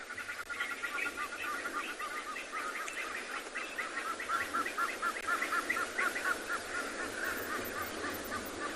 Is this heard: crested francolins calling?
yes